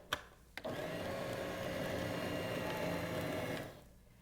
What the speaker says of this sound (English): always cut it up into chunks before you put it in your food processor. And process that through.